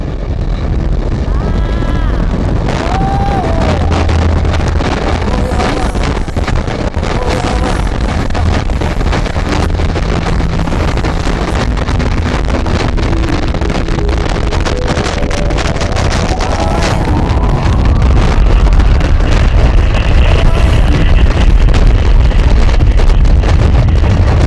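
Loud, steady wind roaring across the microphone in 22 knots of wind, with rushing water and hull noise building as the Vestas Sailrocket speed-sailing boat gathers speed, intensifying toward the end.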